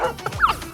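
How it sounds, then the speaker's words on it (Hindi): A single dog gives a short, sharp bark with a yipping, whimpery edge, heard close and clear in a brief burst with no one talking over it. "बाहर से एक कुत्ता भौंकता है।"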